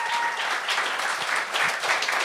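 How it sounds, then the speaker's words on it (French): An audience at a comedy talent show claps for a brand-new stand-up comedian, a moderate, fairly close round of applause with a steady, even texture. "Ben, applaudissez-la quand même"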